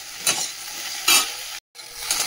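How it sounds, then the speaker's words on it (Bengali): Okra and potatoes fry in a pan with a steady sizzle, broken by a few louder bursts of stirring and a brief dead gap. "ঢাকা চাপা দিয়ে দিয়ে গ্যাসটা কমিয়ে দেবো, আস্তে আস্তে ভাজা হয়ে যাবে"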